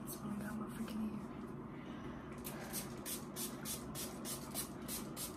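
Bursts of spray from a bottle of Duo Grow Triple Strength Detangler misted onto dry hair, a quick series of close hissing puffs repeating in the second half over faint room noise.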